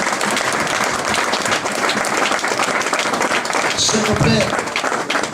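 Church congregation clapping together in sustained applause during a Sunday worship service, steady and dense throughout, with a voice speaking over the clapping.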